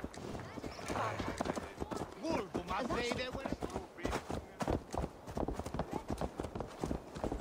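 Rhythmic clip-clop of horse hooves at a steady riding pace in the video game Assassin's Creed Valhalla, with voices talking over them and a faint whinny.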